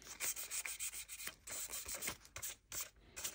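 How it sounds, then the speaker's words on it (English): Sandpaper rubs over primer on the trunk lid of a Revell 1968 Pontiac Firebird 400 model car in short, quick, close scratchy strokes, quiet and rhythmic. "You can hear it with the sandpaper."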